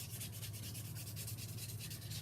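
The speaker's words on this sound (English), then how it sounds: "buff the nail." A nail buffer rubs back and forth across a plastic practice fingernail, giving a steady, close, soft scratchy sanding sound with even repeated strokes and no talking.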